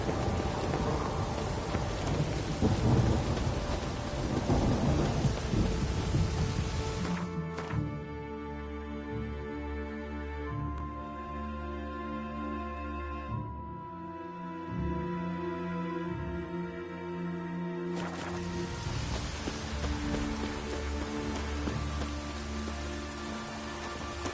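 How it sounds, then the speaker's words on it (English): Steady rain with rolling thunder in the video game Witcher 3: Wild Hunt on PS4, a constant wash of falling rain with low rumbles underneath. The storm sounds continue for about twenty seconds with no talk. "The rain will cleanse the city's streets of filth."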